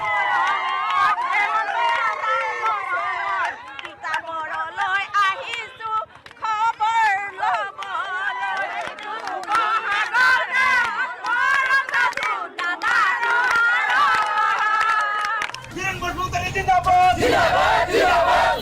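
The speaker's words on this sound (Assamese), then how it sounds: "বিধানসভা উপনিৰ্বাচনৰ জয়ৰ উল্লাস গিৰুৱা শিবিৰত" A crowd celebrates a BJP by-election win in Bhawanipur, Assam, with loud, continuous cheering and shouting, overlapping voices and chanting over rhythmic noise that runs throughout.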